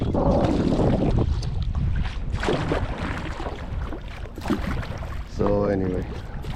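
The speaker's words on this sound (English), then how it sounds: "I finally get a favorable wind from the right direction, and I'm going the wrong direction." Wind gusting across the Mississippi River while paddling a small boat, a steady broad roar buffeting the microphone, with someone talking over it.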